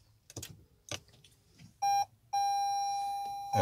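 A 2020-2022 Toyota Highlander's electronic chime sounds as the car is switched on: a couple of short clicks, then a brief tone followed by a longer sustained beep, loud and close.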